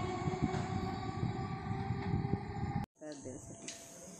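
A Hasnabad local train rolls past at a station, a loud sustained rumble of wagons that cuts off abruptly near the end, leaving quieter station ambience with faint voices.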